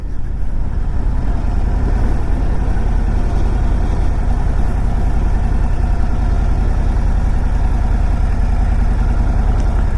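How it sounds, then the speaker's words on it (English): A 2025 Harley-Davidson Road Glide or Street Glide motorcycle engine rumbles at idle, with a loud, steady low-pitched drone heard close up and no talking. "this bike sounds better"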